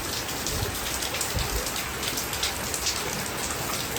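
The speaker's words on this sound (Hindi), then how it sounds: "अच्छी खासी बारिश हो रही है जी।" Heavy evening rain pours down steadily at night, a dense, even hiss of drops on surfaces that stays loud and unbroken throughout, with no voices.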